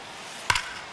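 Bat striking a baseball in a baseball video game, a single sharp crack of contact followed by a quick second knock, short and clear over a faint background hum.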